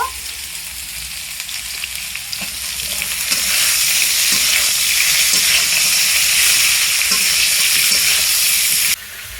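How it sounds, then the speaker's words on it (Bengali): Vegetable stalks hiss and sizzle steadily as they sauté in hot oil for a Bengali hilsa fish curry, the frying growing louder and brighter after the first few seconds, punctuated by light stirring scrapes, with no one talking. "ডাটাগুলো দিয়ে একটু কষিয়ে নেব"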